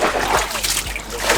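Water splashing and sloshing as it is bailed with a bucket from a small wooden boat on a swamp in Sylhet, Bangladesh, during dry season; irregular close splashes with a faint voice in the background.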